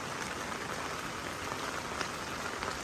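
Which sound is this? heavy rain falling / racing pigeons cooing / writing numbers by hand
heavy rain falling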